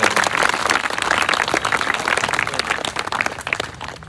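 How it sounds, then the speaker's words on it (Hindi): Audience applause from a classroom or lecture crowd, dense steady clapping filling the room for about four seconds, fairly loud and close, no voices over it. "तो तालियां कमजोर है, कैसे हो गया?"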